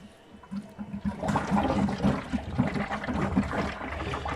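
Water rushes and gurgles steadily after a brief quiet start as an aquarium filter on a 360-litre planted discus tank refills, continuous and close with bubbling surges.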